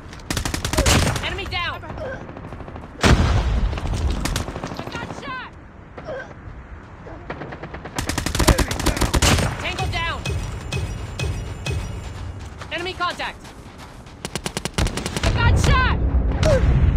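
Loud bursts of automatic gunfire from Call of Duty Mobile crackle in rapid volleys with brief lulls, layered with game sounds and occasional voices.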